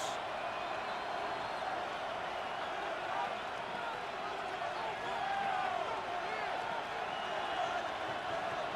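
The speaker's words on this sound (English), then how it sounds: "This crowd urging the defense on" A Madden NFL 26 stadium crowd keeps up a steady, distant roar of cheering under a commentator's continuous talk.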